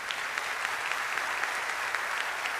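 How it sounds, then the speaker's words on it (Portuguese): A church congregation gathered for a regular assembly applauds together, a continuous, fairly soft wash of clapping that holds steady throughout. "Você pode aplaudir a Deus por isso?"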